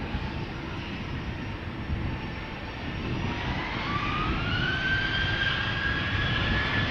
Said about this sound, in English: Got a KLM 737 to Göteborg. 737-700, flight 1231, 14-year-old airplane